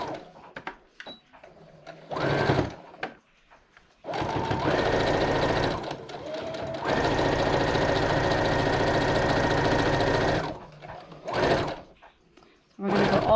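A sewing machine runs in short bursts and then one long steady stretch of rapid stitching, close by, with brief quiet gaps and soft talk between runs.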